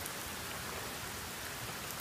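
Heavy rain pours down steadily outside a house with a van parked nearby in Champaign, a dense, even hiss of drops with no voices.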